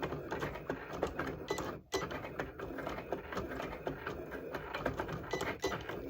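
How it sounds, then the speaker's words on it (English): A Cricut machine printing words for DIY prayer jars makes a steady mechanical clatter with repeated rapid ticks and whirs across the clip, briefly cutting out near the two-second mark before resuming. "And it's printing."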